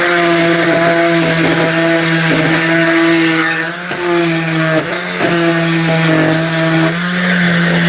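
Power tool bevelling the edges of wooden roosting bars for a chicken coop, a steady loud motor whine running continuously with slight dips in pitch as the cutter bites the wood.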